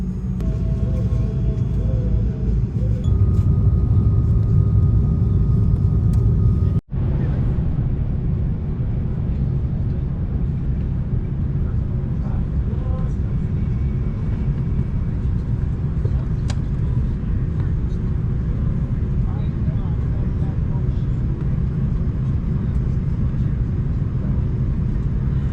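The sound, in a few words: Hawaiian Airlines Airbus A330-200 cabin before takeoff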